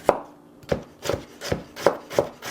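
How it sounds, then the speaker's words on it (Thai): A knife chopping carrots on a cutting board while preparing fried spring rolls: seven or eight crisp, close thuds at a steady, unhurried rhythm, with no talk. "อันไหนที่เราขูดไม่ได้เราก็ต้องหั่นหั่นเอาเนาะ"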